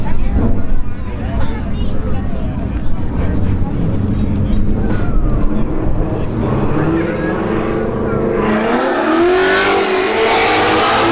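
A BMW 335i and an S197 Ford Mustang launch side by side at a drag strip, engines roaring and rising through gear changes, loud and close, with an announcer talking over them throughout.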